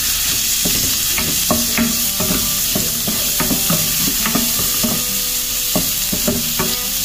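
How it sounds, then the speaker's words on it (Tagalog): Chili sautéing in a little oil in a pan, a steady sizzle and crackle with repeated scraping stirs throughout, close and alone with no talk. "Gisa-gisa rin natin ito."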